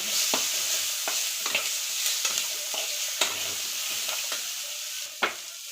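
Upit frying in a pan with tomato and a little coriander, stirred with repeated sharp scraping strokes over a steady close sizzle, no talking.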